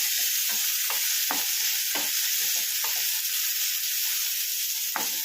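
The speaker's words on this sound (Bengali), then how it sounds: "পেঁয়াজটা ভালো করে ভেজে নেব।" Onions frying in oil in a pan, with a steady close sizzle and repeated sharp scrapes of a spatula stirring them throughout, no talking.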